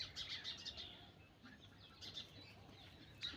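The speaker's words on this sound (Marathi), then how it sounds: "चिमण्यांचा, पक्ष्यांचा आवाज येतोय का?" Sparrows and other birds chirp on a village morning near crops, bursts of quick high twittering with a few isolated calls, faint and a little distant over a soft outdoor hush, no voices.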